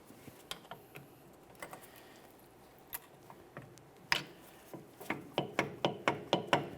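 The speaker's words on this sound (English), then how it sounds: "I'll make my way directly through the port on the caliper, prying up against the rotor, pulling it outward, pressing in on that caliper piston." A pry bar works through the caliper port against the rotor to press in the rear brake caliper piston on a 2008-2017 Mitsubishi Lancer, giving scattered sharp metallic clicks and taps that quicken into a steady series of close knocks.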